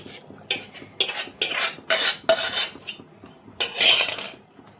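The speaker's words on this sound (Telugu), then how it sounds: "వేసిన తర్వాత ఒకసారి ఇలా కలపండి ఫ్రెండ్స్. బాగా ఒకసారి ఇలా కింద నుంచి పైకి కలపండి" Gongura paste being stirred into chicken curry in a pan, a spoon scraping and clinking against the metal in several bursts of mixing, close and fairly loud with no talk.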